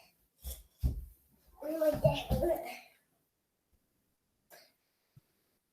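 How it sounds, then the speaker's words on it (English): A child coughs twice in short, sharp bursts near a microphone, followed by a stretch of talking and a quiet tail with one faint sound later. "My son will stop coughing."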